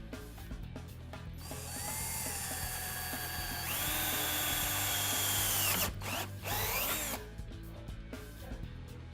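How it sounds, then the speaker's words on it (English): A power drill with a 3/16 bit bores pilot holes for stainless steel nerf bars on an E-Z-Go TXT golf cart, a continuous whirring run that rises in pitch midway and then briefly stutters before winding down. "With our 3/16 drill bit, we can go ahead and drill the pilot holes."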